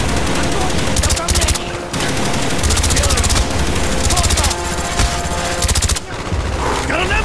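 Machine gun fire in the Call of Duty: Black Ops video game, long loud bursts of rapid automatic shots broken by short pauses, close and dense throughout.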